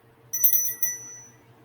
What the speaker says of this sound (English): Every time I read a new line, I'm going to do the bell.